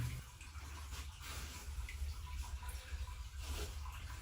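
Water sloshing and swirling around legs while wading through a flooded underground tunnel, a steady low churning wash that stays fairly quiet and close throughout.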